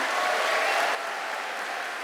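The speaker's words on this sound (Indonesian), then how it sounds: "Tepuk tangan buat Tuhan Yesus" A congregation at a church worship service claps in a brief, even burst of applause at moderate volume, with no distinct individual claps standing out.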